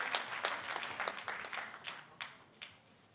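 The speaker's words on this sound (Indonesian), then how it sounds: "Tepuk tangan buat Suita" Soft scattered clapping from a congregation after a testimony at a church gathering, a handful of distinct claps that thin out and fade toward the end, heard from a distance.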